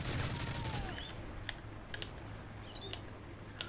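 Quiet, scattered gunshots in Modern Warfare 3, a few distinct sharp cracks spaced across a faint background with mouse-like clicks and no talking.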